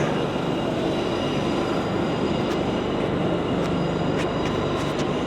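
A GWR train idles at a London Paddington platform, a loud steady rumble and hum of engines with a few faint high squeals and clicks, no voices.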